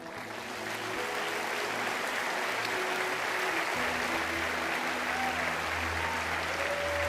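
A large church crowd in Chile breaks into sustained applause, a dense steady wash of clapping that swells early and holds loud, with a low musical tone underneath.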